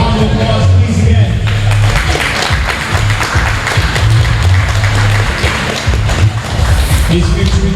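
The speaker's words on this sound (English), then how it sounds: "A round of applause, please, again." Crowd applause at an MMA event after a fight, loud and continuous with claps, thumps and shuffling, a low hum underneath.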